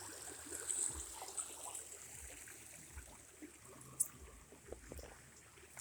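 Small rapids of Rocky Creek running over ancient rocks, a soft, steady wash of trickling water with a few brief splashes, moderately distant and fairly faint throughout.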